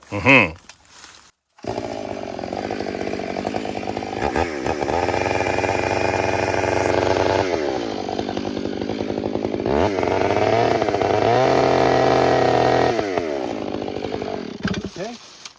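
A chainsaw bore-cuts into a standing tree, its engine droning loud and close for about fourteen seconds with repeated pitch swings as the throttle and load change, after a brief quiet start.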